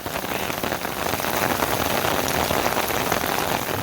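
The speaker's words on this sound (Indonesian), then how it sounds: "Hujan." Steady rain pours onto the ground and gear along the Cetho trail up Mount Lawu, a dense, even hiss of drops that stays loud and close throughout with no voices.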